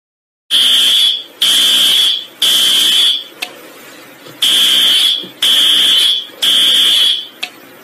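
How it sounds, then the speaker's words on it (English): A school fire alarm sounds in loud, close bursts: six long shrill tones about a second each, in two groups of three, separated by short gaps and ending with brief clicks. "I am going to pull the fire alarm."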